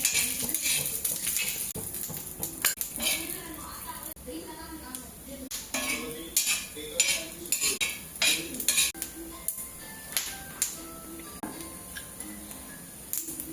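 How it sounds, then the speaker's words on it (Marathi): Repeated scraping and clinking of a spatula stirring peanuts in a pan with a spoonful of oil, steady and close, with a sizzling hiss underneath. "ज्या तव्यामध्ये थोडंसं 1 चमचाभर तेल टाकलं आणि शेंगदाणे घातले"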